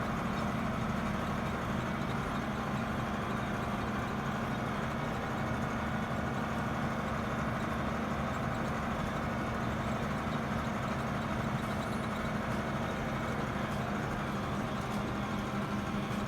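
A tractor engine idles at the end of a hay row with a V-rake hitched, a steady low rumble holding an even level throughout.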